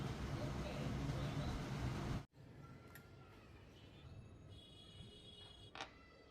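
Kitchen chimney hood fan running at high speed: a loud, steady broadband whoosh that cuts off abruptly after about two seconds, leaving a quiet room with a few faint clicks.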